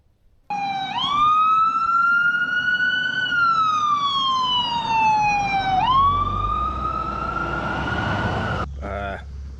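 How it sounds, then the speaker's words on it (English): An ambulance siren wails past on a mountain road, a loud rising and falling tone that sweeps upward again as it passes close, then cuts off near the end. "then there went the ambulance"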